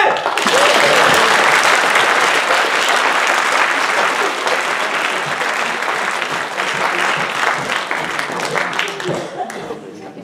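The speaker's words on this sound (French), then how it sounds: "Applaudissements pour l'équipe BDD" Loud, sustained applause from a crowd, dense clapping that continues steadily and fades slightly toward the end, with some voices mixed in.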